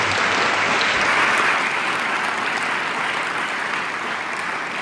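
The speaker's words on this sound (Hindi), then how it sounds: "एक बार इन सबके लिए जोरदार तालियां हो।" Audience applause at a school seminar, a dense, steady clapping from a large crowd that stays loud and even throughout, slightly easing toward the end.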